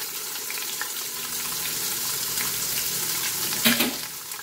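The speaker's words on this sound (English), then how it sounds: "I'm just going to go ahead and sear or brown my meat." Ribs searing in a Pampered Chef Quick Cooker give off a steady, moderate sizzle and hiss of browning meat, with a brief louder clatter near the end.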